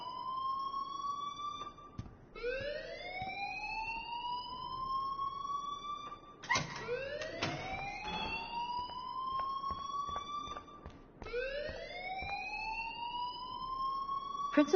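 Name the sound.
school alarm ringing in the video game Life is Strange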